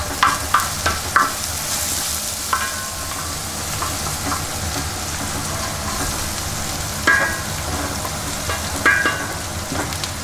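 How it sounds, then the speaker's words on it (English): Hara bhara kebab mixture with crushed coriander sautéing in a pan, a steady soft sizzle with occasional light scrapes and stirring clicks, no talking. "So nicely sauteed now."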